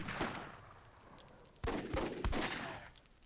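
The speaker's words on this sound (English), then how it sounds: "Stalin gonna get killed by a grenade" A grenade goes off in the Myth II Soulblighter game, with a cluster of sharp, loud blasts and crackling bursts following quieter scattered pops.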